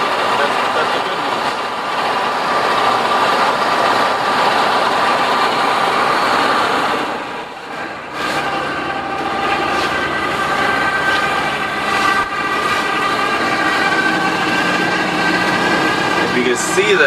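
A Chevrolet C30 truck engine runs at a steady idle, loud and close throughout with a continuous rumbling drone, and speech is heard over it.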